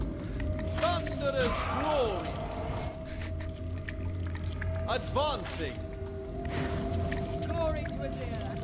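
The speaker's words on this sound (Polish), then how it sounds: "To mlaskanie jest przerażające." Wet, squelching and gurgling creature sounds from the video game Warhammer Age of Sigmar: Storm Ground rise in repeated bursts over a steady low hum and game ambience, fairly loud and close.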